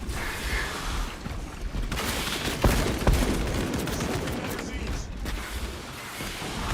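Enemy gunfire crackles in scattered volleys and short bursts during a battle in the video game Space Marine 2, with a couple of sharper nearby shots under steady game noise and a voice talking.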